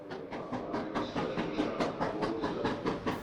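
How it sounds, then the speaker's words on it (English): A WD steam locomotive works at full throttle through Manchester Victoria hauling coal empties, its exhaust beats chuffing in a fast, even rhythm, loud and close with a hissing undertone. "A WD locomotive thrashing through Manchester Victoria at full throttle, with empties returning to the Yorkshire coalfield."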